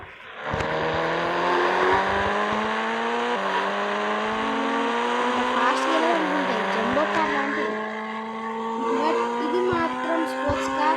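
A Lamborghini in the video game Indian Bike Driving 3D revs and accelerates through its gears, the synthetic engine tone climbing and shifting repeatedly, with a brief tire squeal, while someone talks over it.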